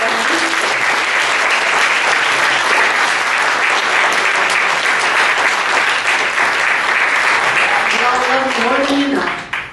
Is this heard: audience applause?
yes